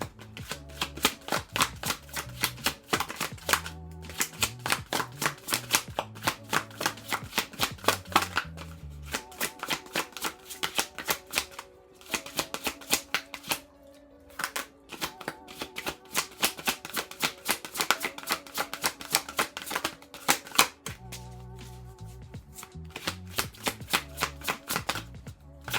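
Tarot cards being shuffled by hand, a long run of rapid riffling and slapping bursts in a steady rhythm, close and clear, with no voice over it.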